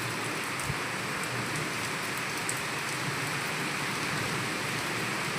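Heavy midday rain pours steadily near mango and guava trees, a dense, even hiss of drops close by that holds at a constant level with no voices.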